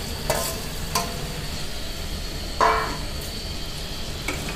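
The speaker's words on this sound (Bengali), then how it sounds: "দিয়ে ভালো করে নেড়ে নিয়ে মাখিয়ে দেবো লাউটা মশলার সাথে এভাবে।" Boiled bottle gourd being stirred into fried spice paste in a pan, with a few distinct scraping strokes of the spoon over a faint, steady sizzle, close by and with no talking.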